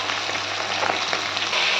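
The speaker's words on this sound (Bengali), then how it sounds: "মাছগুলি ভাজা হয়ে গেল" Hilsa fish frying in oil in a wok: a steady, close crackling sizzle with no talk, running evenly for a short stretch.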